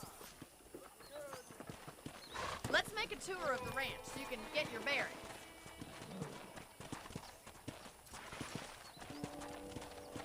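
Horse hooves clip-clop steadily while riding through a ranch in the 2010 western video game Red Dead Redemption, with a brief whinny, under ongoing conversation between characters.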